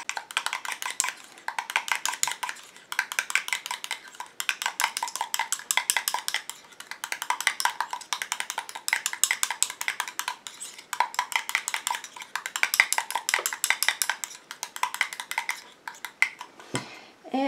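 Homemade hibiscus night cream being stirred in a small container after preservative is added, a rapid continuous series of light clinking scrapes in quick rhythmic bursts, close and clear, with no talking.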